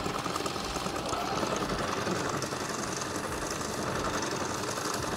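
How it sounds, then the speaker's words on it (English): A sewing machine runs steadily, stitching through fabric for liturgical vestments, with a continuous fast whirring and rattling held for several seconds at close range. "the machine sews through the fabric"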